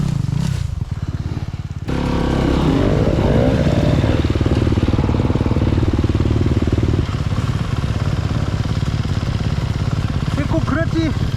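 An enduro motorcycle rides off with the clutch released, its engine revving up into a loud, close, rough drone that later steadies, while people talk over it.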